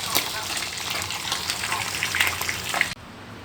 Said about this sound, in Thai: สลักกำลังทอดปลานิลเนาะพี่น้องเนาะ